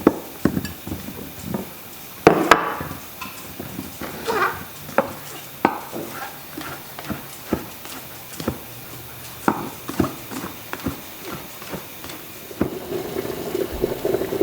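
A knife slicing food on a cutting board in a home kitchen while a romantic dinner for two is prepared, with a series of irregular close chops and taps, some louder knocks, and light clinks of dishes in between.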